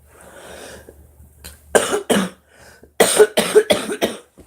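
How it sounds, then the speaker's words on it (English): Harsh coughing from one person, close and loud: a couple of separate coughs, then a rapid fit of four or five coughs in a row. "I'm so tired of coughing."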